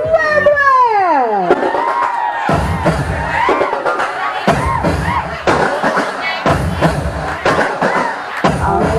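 Teams at a summer outing at a hotel resort cheer loudly as a crowd, with whoops and shouts in repeated bursts over an amplified voice sweeping down at the start.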